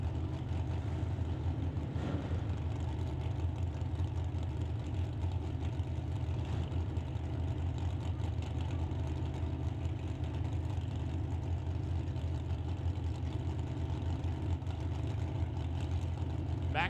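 Drag racing cars, including a 2011 BMW 330i and a 23T Altered, idle at the start line: a steady low engine rumble with a faint background of distant voices, continuous and even throughout.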